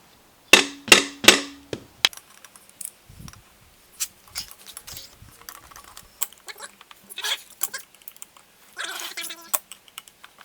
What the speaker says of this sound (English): you get your flat blade under this lip here, and you just start prying. Eventually she'll pop out.